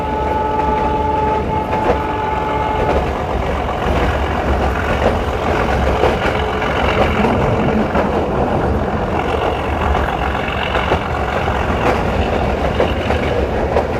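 A meter-gauge passenger train on the Bahraich–Mailani line runs at about 40 to 50 km/h, heard from on board as a loud, continuous rumble and rattle of the carriages with faint rhythmic wheel clatter, and no voices.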